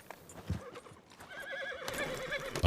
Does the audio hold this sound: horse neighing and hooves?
yes